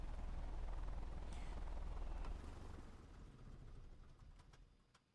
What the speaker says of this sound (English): The rattle of the engine on the shutdown in the cabin.